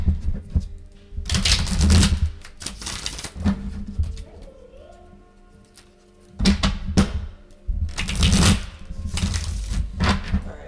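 Bursts of rapid riffling and snapping, like cards being shuffled, come in two separate rounds with a quieter pause between them.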